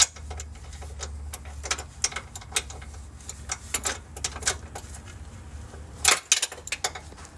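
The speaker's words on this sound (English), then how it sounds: "I'm just going to be tightening this one down with the ratchet here." Repeated ratchet clicks come in short bursts as a motor mount bolt is tightened on a 2011-2019 Dodge Charger RT with a 5.7L Hemi. The clicks are close, with a steady low hum underneath and a louder clatter near the end.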